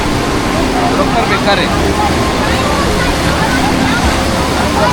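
Icy Ganga river water at Gangotri rushing and churning in a loud, continuous roar close by, while a person speaks briefly over it.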